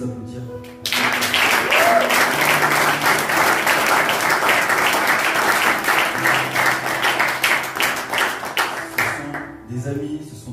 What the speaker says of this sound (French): Est-ce qu'on peut les applaudir?